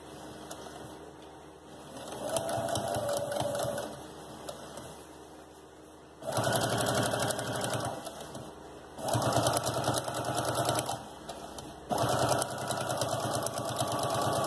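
A sewing machine stitching baby shoes runs in short motorized bursts, stopping and restarting as it backstitches at the start and end of a seam, close and fairly loud.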